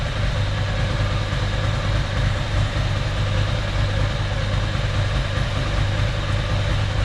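A Ducati motorcycle engine fitted with Mikuni carburettors idles steadily and a little raggedly, a continuous low throbbing heard close up, with no talking.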